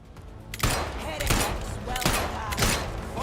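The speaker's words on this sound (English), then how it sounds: "You definitely took 2 shots there." Rapid gunfire from the video game Atomfall, several sharp bursts of shots in quick succession after a brief quiet start, loud and close.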